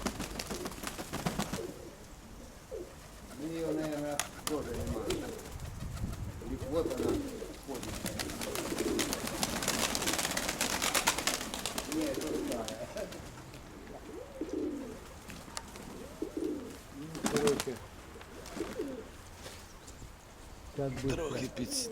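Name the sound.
pigeons cooing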